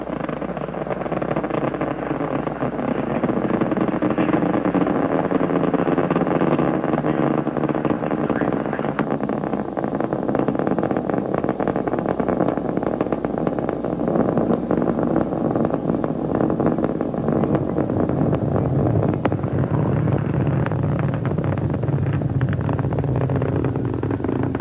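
Space Shuttle Discovery's main engines roar during the STS-51G launch from Complex 39A, a dense, loud, continuous rumble that persists unbroken throughout.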